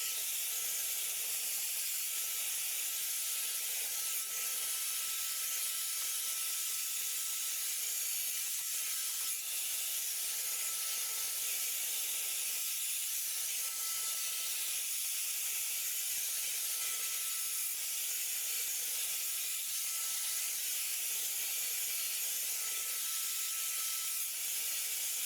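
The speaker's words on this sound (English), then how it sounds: "I'm gonna blow dry the rest of my hair without a nozzle and see how that goes." A Dyson-style knockoff hairdryer runs without a nozzle, blowing a steady, loud, broadband airy hiss that stays constant and close throughout.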